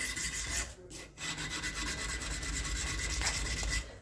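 Sandpaper of about 100 to 150 grit rasps against a small piece of iron being shaped into a knife. The scraping runs in steady strokes, with a short pause near the first second, fairly close and continuous.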